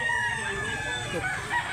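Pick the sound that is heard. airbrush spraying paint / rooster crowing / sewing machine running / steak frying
rooster crowing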